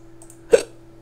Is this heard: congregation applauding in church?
no